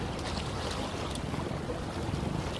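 Wind blusters across the north coast beach of Tegal in the late afternoon, a steady rumbling rush of air against the microphone with faint surf beneath and no voices.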